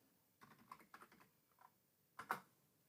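Soft typing on a computer keyboard, a few quiet scattered keystrokes and a short burst of clicks near the end, close and alone.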